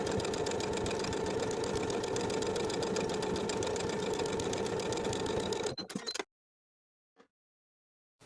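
A sewing machine runs a steady straight stitch across an athletic-top neckband, with a loud, even mechanical whir that continues for about six seconds, then stops abruptly, followed by near silence and one faint click.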